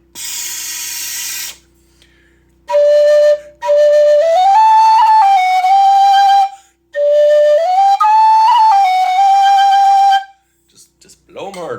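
A V3 low D whistle blown hard in two long phrases, each climbing from a low held note to a higher one with clear breathy harmonics, loud and close, with a brief hiss before and a faint voice at the end.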